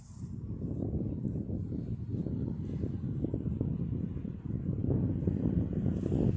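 A distant aircraft drones as a low, steady rumble with faint wind buffeting, continuous and even throughout, no voices over it.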